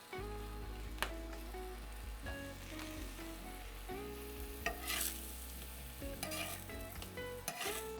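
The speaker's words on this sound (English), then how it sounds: "I'm gonna put some oil in it. And we're gonna heat the tortillas." Tortillas heating in oil in a pan for Mexican street tacos, a steady soft sizzle with occasional stirring scrapes, heard under a constant tonal background hum, with no talking.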